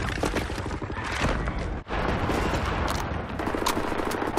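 Wolfenstein: The New Order beach landing: dense suppressing gunfire roars without pause, with overlapping automatic bursts and heavy blasts. The battle stays loud throughout, cutting out only for a brief instant midway.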